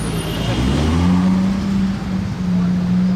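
A Ferrari 812 GTS engine runs with a steady, deep droning note and slight rises in pitch, loud and close, with no talk over it.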